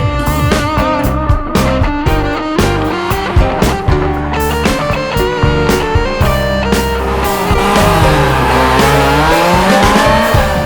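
Retro class R1 rally cars launch at the start line of a sprint rally, engines roaring and revving loud and close, with rising gear pulls, tire squeal and skidding, and no talking.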